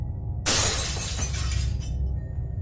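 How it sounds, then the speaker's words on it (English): A sudden, loud crash of shattering glass, bright and harsh, followed by about a second of scattered tinkling fragments before it fades to quiet. "we heard the sound of breaking glass from downstairs"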